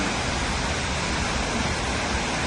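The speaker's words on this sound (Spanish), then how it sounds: "Estamos en la cascada de Multihoma" Multnomah Falls in Oregon gives off a dense, steady roar of falling water, loud and unbroken, filling the whole short stretch with broadband rushing noise.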